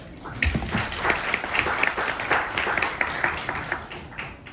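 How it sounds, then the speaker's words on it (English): Scattered clapping from a small audience at a case-solving workshop session, a light, uneven patter of hands held at moderate level for several seconds without a clear peak. "Can we have a round of applause?"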